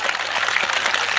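Audience clapping at a Hindi comedy poetry show, a dense, steady burst of applause filling the short moment without any voices over it.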